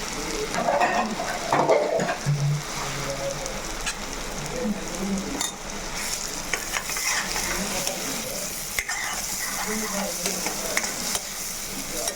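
A spoon stirs brinjal curry with garlic and ginger paste in a pan, scraping and sizzling steadily for the whole stretch with a few louder clatters near the start. No one speaks.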